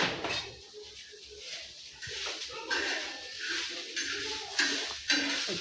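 Onion and grated coconut roast in a pan as they are stirred, with scraping and light clinks of the utensil over a soft hiss, and faint background sounds around it.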